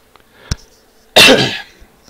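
A single short cough, then a louder, longer raspy cough burst, close to the mic, with quiet pauses around them.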